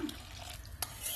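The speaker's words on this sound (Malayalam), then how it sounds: "ഇതിന്റെ അകത്തോട് നമുക്ക് വെള്ളം ഒഴിച്ചു കൊടുക്കാം." Water, the leftover rinse from washed cashews, goes into a cooking pan for paneer butter masala, making faint splashing and sizzling stir sounds with a couple of brief clinks, quiet and close.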